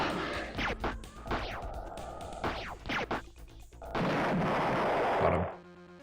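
Weapon fire in the space combat game Star Control II: several blasts with sweeping zaps, then a long, loud roaring burst that cuts off suddenly.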